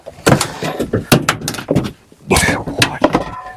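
An old Dentside Ford truck door opens and slams with metallic clunks and creaks, several sharp hits spaced across a few seconds at close range.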